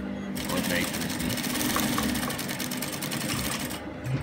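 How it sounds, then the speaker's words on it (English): A sewing machine stitches a trouser pocket with a close, continuous mechanical whir that holds steady for about four seconds. "So I'm going to place my footer on top like this, and I'm going to stitch."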